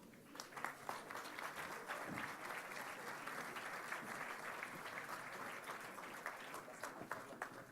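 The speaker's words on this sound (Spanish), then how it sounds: "Vamos a recibir con un aplauso a Ricardo Anaya, por favor." Sustained applause from a live audience welcoming a guest at a political discussion event, dense and steady throughout with sharp individual claps standing out, loud and close with no talk over it.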